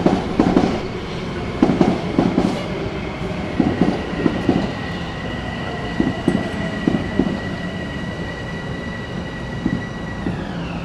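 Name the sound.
train passing on rails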